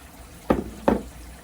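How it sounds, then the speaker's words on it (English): Raisins drop into water in a pot, two soft splashy plops about half a second apart, close and quiet with nothing else around. "So we're going to drop our raisins into the water."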